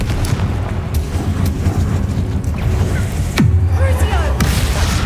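A Confringo blast spell from Hogwarts Legacy: a sharp booming burst with a falling swoosh, set over steady rumbling ambience with spoken voice faintly underneath.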